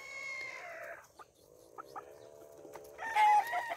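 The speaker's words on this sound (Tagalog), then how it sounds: "Yung mga manok." Chickens clucking and calling close by, a drawn-out call, then short scattered clucks and a louder burst near the end, heard alone without talk.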